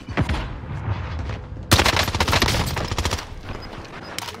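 SMG gunfire in a video game, rapid bursts of automatic fire that start moderately loud, then erupt into a dense, loud volley before thinning out to scattered shots.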